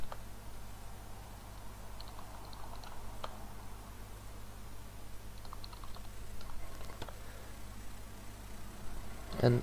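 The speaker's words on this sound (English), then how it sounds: "So type the name of this device." Computer keyboard typing, scattered clicks and short bursts of keystrokes, faint beneath a steady background hum, with no voices.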